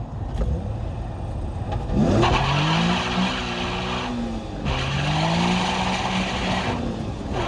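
A Nissan 350Z engine revs hard in first gear with a loud, close roar that climbs steadily in pitch. The roar drops back briefly, then climbs again over a broad rushing noise.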